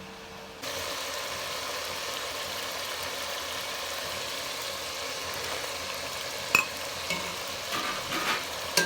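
Potatoes and spices being stirred and roasted in a pan, a steady close sizzle with scraping stir sounds running throughout, starting abruptly after a brief quieter moment, with a few sharper clinks near the end.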